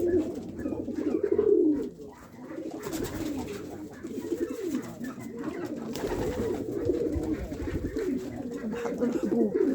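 Pigeons coo steadily at close range during feeding time, a dense murmuring chorus of soft throaty coos with faint rustling beneath, continuous throughout.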